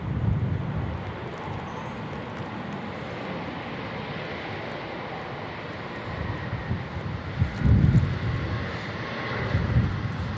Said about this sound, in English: What a landing. From the Austrian Embraer coming in from Vienna.